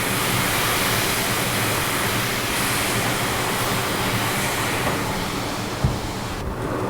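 Water squirted onto a hot griddle top hisses and sizzles loudly in a steady, broadband rush, with a small clack near the end.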